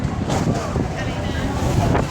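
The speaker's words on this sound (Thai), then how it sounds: "ไอ้ลมมันแรงอ่ะ" Strong gusting wind buffets an outdoor microphone at a funeral cremation ceremony in Thailand, a continuous loud rumbling roar with people talking underneath.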